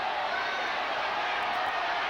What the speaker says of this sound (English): The crowd going berserk.